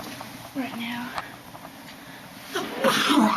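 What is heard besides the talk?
person sneezing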